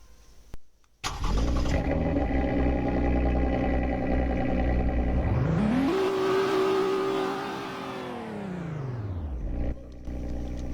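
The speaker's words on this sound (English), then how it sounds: "let's listen to it turn on" A video game car engine cranks and catches, then revs up hard in one loud roar before settling back to a steady idle.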